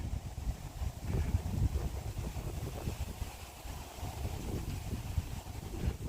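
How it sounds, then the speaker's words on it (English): Wind gusting over a mountain trail on an Appalachian Trail section hike, buffeting the microphone in uneven, rushing waves without any voices. "The wind feels so good."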